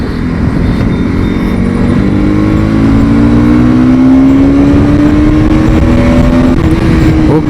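Bajaj Pulsar NS200 motorcycle, 2025 model, ridden in third gear: a loud, steady engine drone close by that climbs smoothly in pitch as it accelerates, with continuous wind and road rumble throughout and no talk.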